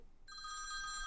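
A telephone bell starts ringing, a bright, sustained electronic trill that starts abruptly and continues, fairly faint and alone.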